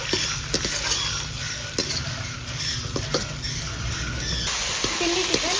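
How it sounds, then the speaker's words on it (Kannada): Chilli chicken gets stirred with lemon juice in a hot pan, a steady sizzle under repeated scraping and clinking of the spatula against the metal, loud and close. "ಇವಾಗ ಕ್ಲೀನಾಗಿ ಮಿಕ್ಸ್ ಮಾಡ್ಕೊಳ್ಳೋಣ"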